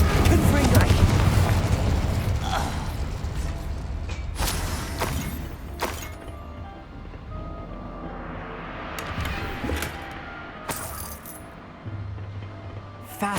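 Hogwarts Legacy combat with an Incendio fire spell and a Confringo blast: repeated booms, shattering bursts and clinking debris over a rumbling bed, with brief voices mixed in.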